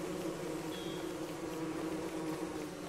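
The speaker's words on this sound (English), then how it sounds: "Oh shit, there's bees everywhere." A steady, dense buzz of a bee swarm in the video game Don't Starve Shipwrecked hums continuously and evenly throughout, with no speech.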